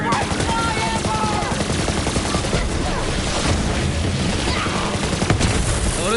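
Dense rapid gunfire from Borderlands 3 on Mayhem 10 difficulty fills the clip. Bursts of shots overlap with booming impacts, loud and continuous, with faint game voices underneath.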